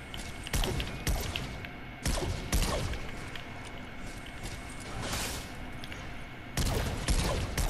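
Rapid bursts of gunfire in a Fortnite match, loud sharp volleys recurring every second or two over a steady background of game noise, with no talking.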